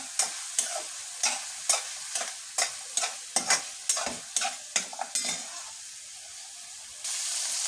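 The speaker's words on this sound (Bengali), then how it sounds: "এখন ভালো করে এটাকে আমি নাড়িয়ে নিই" Green chili paste being stirred in a frying pan, with a sizzling bed under a steady series of sharp scraping strokes. A constant hiss of frying continues after the stirring stops.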